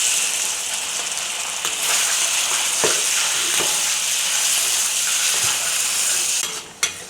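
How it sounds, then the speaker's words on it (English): Pork frying in hot oil in a wok over medium heat, a loud steady sizzle throughout with occasional clacks of stirring, no voices. "We start by frying the pork first over medium heat."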